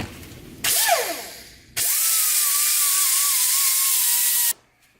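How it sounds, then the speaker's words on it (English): A small 60 grit power sander gives a short burst that spins up and down, then a steady, close whine for about three seconds before cutting off abruptly. "this little 60 grit sander that I'm going to use"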